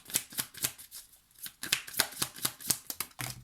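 Tarot cards shuffled by hand in quick, rhythmic riffling flicks, close and crisp, with a brief pause before a second run of shuffling.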